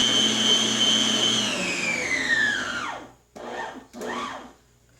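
An electric stand mixer beats cake batter for a Neapolitan cake at maximum speed with a loud, steady motor whine that winds down, followed by two short bursts as it restarts and stops.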